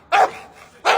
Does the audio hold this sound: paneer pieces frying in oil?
no